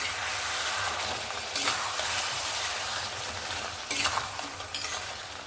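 A spicy crab curry gets stirred in a pan with a spatula, scraping and clinking against the metal over a low, steady sizzle, with a few louder scrapes standing out.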